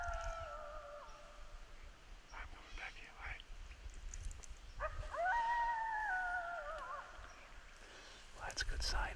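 Coyotes yip and howl in rising, wavering calls outdoors during a hunt, carried over steady wind and field noise, loudest near the middle of the stretch.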